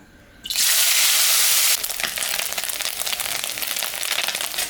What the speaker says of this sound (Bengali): তেলটা গরম হয়ে গেছে, আমি এখন মাছ ভাজবো।